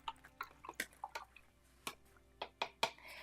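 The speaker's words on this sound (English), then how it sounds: "I am going to wash my brush." A paintbrush is swished and rinsed in water, giving a run of short splashy drips and clinks, close and fairly quiet, with pauses between bursts.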